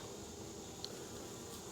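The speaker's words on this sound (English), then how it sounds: "but there is a mass of bees here." A mass of honey bees in a hive gives a steady, faint, even hum with no break and no talk, in a honey bee hive being checked for small hive beetles before winter.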